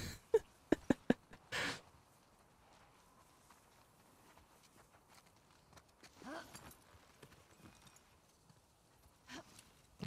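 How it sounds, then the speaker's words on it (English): A few sharp horse hoof clops in a quick cluster near the start in the video game The Last of Us Part II, then scattered softer steps and rustles over a quiet background. "There's the horse."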